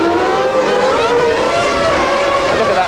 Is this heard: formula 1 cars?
yes